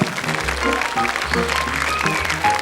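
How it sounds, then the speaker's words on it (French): Studio audience applause at a 1982 French television fan show for children, steady and fairly loud throughout, with a low background hum and band tones underneath. "je vous demande d'applaudir, Monsieur Frédéric."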